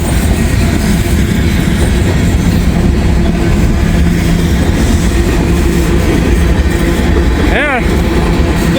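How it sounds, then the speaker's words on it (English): A transfer freight train rolls across a bridge in Cincinnati, heard as a steady, loud rumble of wheels on rail with faint clickety-clack throughout, and a brief squeal or horn-like sweep near the end. "Looks like we got a transfer train."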